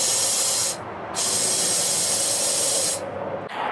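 Compressed air hisses steadily and loudly from a leaking turbo boost boot on a pressurised intake, broken by two short gaps where the flow drops away, with no talk.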